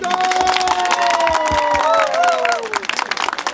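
An audience at an award ceremony gives loud, continuous applause, dense clapping mixed with cheering voices that thins into scattered claps at the end.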